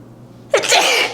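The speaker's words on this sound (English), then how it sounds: "Oh, I think I have to sneeze from the feathers." A single sharp, loud human sneeze, close by, after a short quiet lead-in, brought on by feathers from a powder puff.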